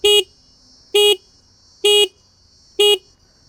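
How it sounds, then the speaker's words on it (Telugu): A Honda Unicorn 160 motorcycle horn sounds four times in short, evenly spaced, loud blasts, each about a quarter second long, with a faint steady tone in the gaps. "చాలా లౌడ్ హార్న్ ప్రొవైడ్ చేస్తున్నారు"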